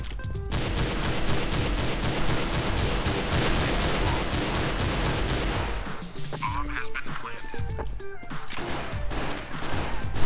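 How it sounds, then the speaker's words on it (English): Rapid gunfire in Counter-Strike: Global Offensive, a loud dense stream of shots for several seconds, then scattered bursts and clatter with game sounds. "I'm shooting straight up."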